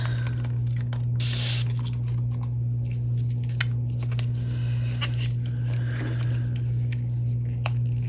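A short hiss of aerosol spray on a freshly unmolded resin elk figurine bursts about a second in, over a steady low electrical hum and scattered small clicks.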